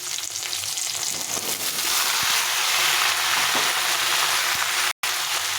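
Chopped mixed vegetables frying in oil in a pan for a Bengali curry, a constant loud sizzle with occasional stirring clatter and a brief dropout near the end.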